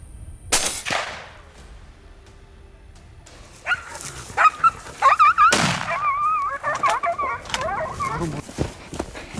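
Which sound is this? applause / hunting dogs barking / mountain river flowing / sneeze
hunting dogs barking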